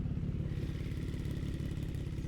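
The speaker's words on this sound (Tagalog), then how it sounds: "Dumami pa yung mga motor dito actually." Motorcycles rumble nearby with a steady, loud mid-pitched engine drone and slight clatter, an idling or slowly rolling group at a morning ride stop with no talk.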